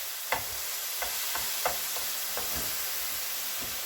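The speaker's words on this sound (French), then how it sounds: "Faites bien fondre le sucre avec les pommes hein, et la cannelle et les 4 épices" Apples with sugar, cinnamon and four-spice sizzling steadily in a pan, with a spoon stirring and scraping in scattered soft knocks over a constant close hiss.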